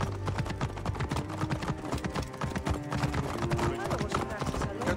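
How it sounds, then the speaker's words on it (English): Rapid horse hooves gallop in the Assassin's Creed Origins video game, a dense stream of quick clopping beats mixed with game ambience and effects, steady and fairly loud across the clip. "I get on my horse"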